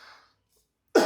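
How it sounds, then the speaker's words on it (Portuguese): A single short cough right at the end, close to the microphone and loud, after a brief stretch of quiet. "Opa, desculpa a tossida."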